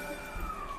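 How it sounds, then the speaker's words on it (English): Ambulance siren from the Breath of the Wild game session, a faint steady wailing tone held across the short moment, low and distant under a quiet background. "That was the ambulance."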